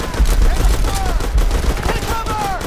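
Rapid gunfire rattles through a Vietnam War mod of a military shooter game, dense, loud bursts crackling continuously with whistling streaks overhead and a shouted voice mixed in.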